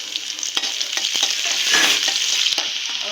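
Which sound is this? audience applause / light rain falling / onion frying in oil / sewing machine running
onion frying in oil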